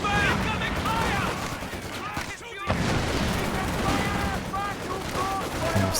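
Sustained Vickers machine gun fire in a multiplayer war game, with dense continuous bursts and battle noise and a brief lull midway, while voices call out over the shooting.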